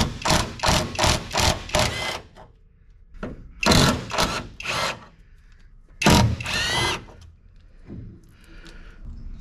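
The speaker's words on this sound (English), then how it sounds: "we're going to pull the entire hanger since we can't really get to the bolts" Air tool hammering at front spring hanger bolts during Pontiac Firebird suspension removal, with a run of rapid rhythmic bursts followed by a few longer blasts separated by pauses, close and loud.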